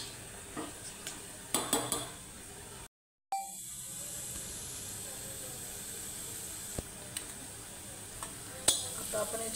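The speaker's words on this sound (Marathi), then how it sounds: "आता त्याच्यामध्ये टाकणार आहे आलं लसूण पेस्ट" Browned onion frying with ginger-garlic paste, bay leaf, shahjeera and whole spices for masala rice, stirred in the pan with a steady sizzle, scattered utensil clinks and a brief silent gap, no talk.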